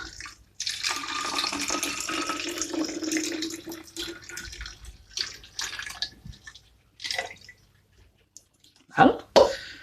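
Two hundred millilitres of water poured into a bottle for a home yeast fermentation experiment, a steady close splashing pour lasting several seconds and then trailing into a few short gurgles, with a voice speaking over parts of it.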